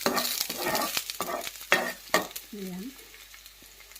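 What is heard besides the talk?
garlic sizzling in hot pan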